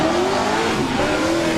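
A BMW M54 six-cylinder turbo engine powers a drift car at a British Drift Championship pro qualifying round at Driftland, roaring loud and steady at high revs, with tire squeal running underneath throughout.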